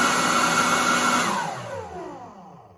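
Sunjoe 24V cordless blower/sweeper in a closed garage, a close whooshing fan roar that winds down with falling pitch and fades out.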